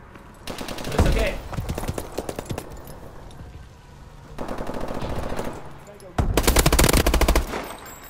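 Bursts of automatic gunfire in Call of Duty Advanced Warfare, three separate loud strings of rapid shots with quieter game sound and a voice in between.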